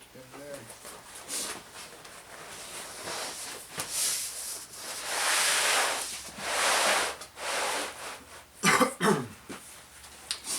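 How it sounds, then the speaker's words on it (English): Someone getting over a cold coughs and sniffles several times up close in a woodworking shop during veneering work, with short bursts between stretches of speech. "Sorry for my sniffles and my coughing."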